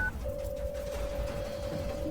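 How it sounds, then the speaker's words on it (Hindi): A telephone being dialed for a dramatized story, heard as a short high blip and then a steady, unbroken phone tone that holds for about two seconds over a low background hum. "विद्युत ने किसी को फोन लगाया।"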